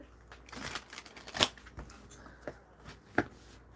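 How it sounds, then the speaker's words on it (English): Quick riffling bursts of a deck of tarot cards being shuffled close by, with a couple of sharper snaps as the cards bridge and settle. "It was a smooth shuffle."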